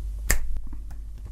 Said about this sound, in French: il claqua des doigts